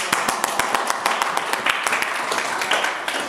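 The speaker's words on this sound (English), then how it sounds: "You might want to give them a round of applause." Audience applause at a public speaker event, a dense wash of many hands clapping at close range, steady and fairly loud across the few seconds with distinct individual claps standing out.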